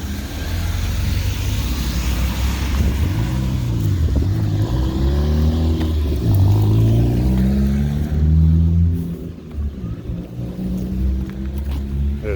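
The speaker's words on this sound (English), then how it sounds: "There's City of Montreal trucks right there." City of Montreal trucks driving along a street in Ville-Émard, engines rumbling loud and close with rising and falling pitch as they pass, then easing off.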